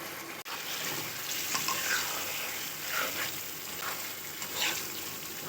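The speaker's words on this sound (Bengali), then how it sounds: "মশলার সাথে ভালো করে কষিয়ে নিচ্ছি আমরা মাছগুলোকে" Sea fish sizzling in a pan with coriander powder and raw onion while being stirred, a steady soft frying hiss with scraping stir sounds and occasional louder clatters.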